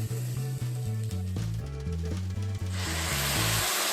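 Hot water is poured into a pot of chicken khichuri, a steady hissing rush that starts partway through and grows louder, over a background of melodic music with a plodding bass line.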